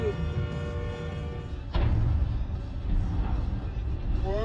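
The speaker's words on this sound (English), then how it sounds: "You can really hear the brakes working as hard as they can to stop the train." A train makes an emergency stop in Perrysburg, Ohio. Its brakes give a sustained, piercing, multi-toned metallic screech over a heavy rolling rumble, with a sharp jolt partway through.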